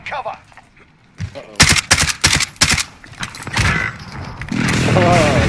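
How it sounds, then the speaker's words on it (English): Explosions from a precision airstrike in a Call of Duty Search and Destroy match: a burst of sharp, loud blasts and crackling impacts in quick succession, followed by a sustained rumbling roar, with voices talking in the mix. "Enemy precision airstrike, take cover!"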